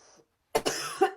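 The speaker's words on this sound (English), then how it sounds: "I do actually have a bit of a cough" Two or three sharp, close coughs in quick succession after a brief silence, loud and harsh.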